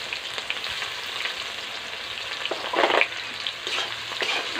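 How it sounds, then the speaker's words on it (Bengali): Thinly sliced onion frying in hot, salted oil, a steady close sizzle with a louder burst of crackling midway as it is stirred. "পেঁয়াজটা আমি তেলের উপরে দিয়ে দিচ্ছি"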